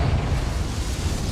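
A rumbling, sustained blast from the Confringo fire spell in Hogwarts Legacy, loud and close, with a deep roaring low end and no clear onset.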